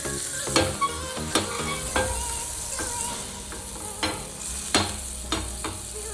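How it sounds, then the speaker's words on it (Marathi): Butter melting in a pan for coconut barfi, a steady close sizzle and fry with intermittent clacks and scrapes of stirring spaced every second or so. "आता मी पॅनमध्ये टाकलेलं आहे बटर"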